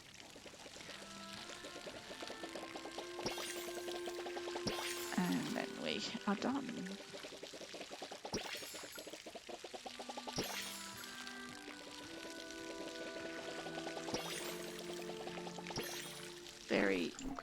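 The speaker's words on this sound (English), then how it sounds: "So really just got to water." Crops being watered in the video game Palia: a continuous pouring, splashing water sound runs through the clip beneath a person talking and soft background music.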